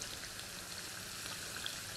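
Ground beef browning in a pan gives off a steady, even crackling sizzle, like light rain, holding at one level throughout with no voices over it.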